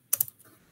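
Keys clack on a computer keyboard while HTML list items are typed out, a short burst of two or three quick, close strokes followed by quiet.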